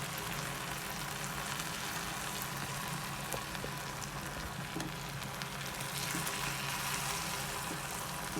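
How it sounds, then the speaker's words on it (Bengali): Raw mango pickle sizzles in a pan as it is stirred, a soft, steady frying hiss with faint crackles running evenly throughout, quiet and close, with no voices. "এখন 15 থেকে 20 মিনিট এটাকে নাড়িয়ে চাড়িয়ে নিলেই কাঁচা আমের পারফেক্ট স্বাদের আচার তৈরি হয়ে যাবে"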